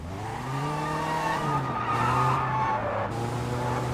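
A car in the video game Sleeping Dogs drives steadily, its engine drone holding a constant pitch and shifting slightly, with a faint tire squeal and continuous road rumble and no talking.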